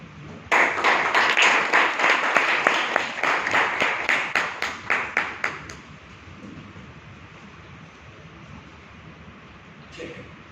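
A Toastmasters meeting audience in Bangalore applauds a speaker with a burst of clapping that lasts about five seconds, then cuts off into quiet room tone.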